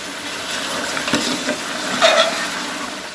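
Chicken frying in a pan for pulao gives a continuous sizzle, broken by a couple of scraping stirs and metallic clinks of a utensil against the pan, with no talking.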